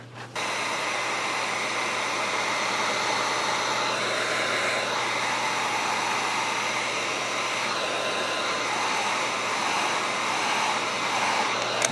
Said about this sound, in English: I do want to get the heat gun on this since that's a lot of material.